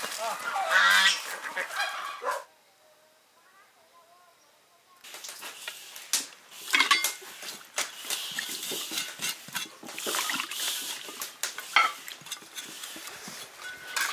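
A large duck, about 2.5 kg, honks and quacks in loud, scattered bursts, with a quiet pause partway through, then the noisy calling resumes alongside some clattering.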